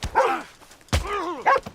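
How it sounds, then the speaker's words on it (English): Two sharp barks from a dog in Red Dead Redemption 2, the second followed by a longer wavering growl-whine, then a third yelp; close and loud, with no talk. "The dog bit me."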